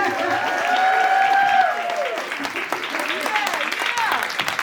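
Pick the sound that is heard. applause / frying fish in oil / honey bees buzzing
applause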